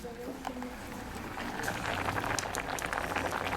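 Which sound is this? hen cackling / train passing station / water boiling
water boiling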